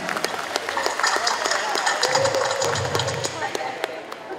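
Audience at a water utility's anniversary celebration breaks into continuous applause, a busy field of claps with voices and a brief tone underneath, fairly loud and close.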